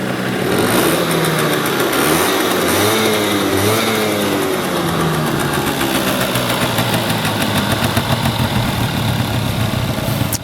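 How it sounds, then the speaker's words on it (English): Two-stroke engine of a 1986 Honda Spree scooter, revived after thirty years in storage, runs loudly up close, its buzzing note rising and falling through a few quick revs before holding at a steady, rattly idle. "I'll rev it up here."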